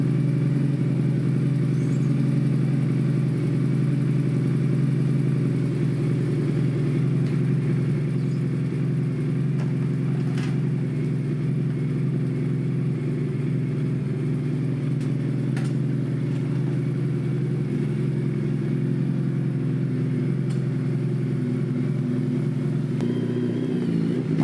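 Suzuki Hayabusa with a race-fit exhaust on a ride, a steady loud engine drone that holds for the whole stretch with small shifts in pitch and no talk.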